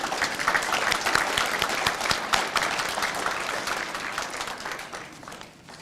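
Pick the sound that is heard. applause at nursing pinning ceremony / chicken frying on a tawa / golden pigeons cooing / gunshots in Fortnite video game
applause at nursing pinning ceremony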